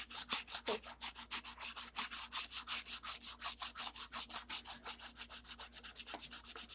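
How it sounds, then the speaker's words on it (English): Bondo body filler sanded by hand on an O scale model kitbash, a rapid, rhythmic back-and-forth scratchy rasp repeating steadily at close range for several seconds. "it's easy to sand."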